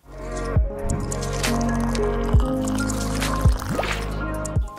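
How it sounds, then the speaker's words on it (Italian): Ice cubes dropping into liquid in a glass, several distinct plinks and splashy drips spaced over a few seconds, close and clear against a soft bed of lowered music. "la musica letteralmente si abbassa per lasciare spazio al suono dei cubetti di ghiaccio che cadono"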